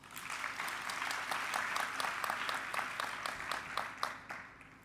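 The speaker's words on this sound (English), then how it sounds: "A big round of applause." Audience at the 16th Randwater Ziyagezana Excellence Awards ceremony breaks into a big round of applause, steady dense clapping throughout with a few sharper individual claps standing out near the end.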